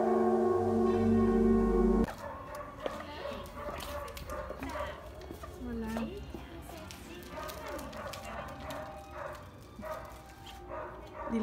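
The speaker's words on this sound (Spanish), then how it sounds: "Este es un perrito que es un juguete." A toy dog barking at a Halloween costume party, with a short electronic tune followed by small yapping barks and whimpers scattered among children's and adults' voices.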